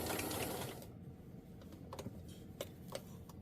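A sewing machine runs briefly at the start, a quiet whirring stitch that stops after about a second, followed by faint scattered clicks and taps in a quiet room.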